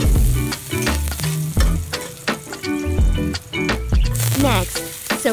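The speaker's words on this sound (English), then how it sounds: "First, saute the garlic until slightly golden brown." Garlic sautéing in a pan until golden brown, a loud close sizzle with repeated sharp clinks and scrapes of a utensil stirring.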